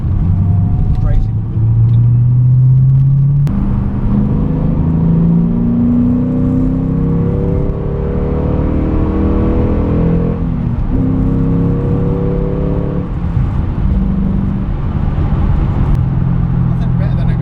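A Ford Mustang accelerates hard on the road up to about 70 mph, its engine note climbing steadily through rising sweeps with strong low rumble and road noise, heard from inside the car.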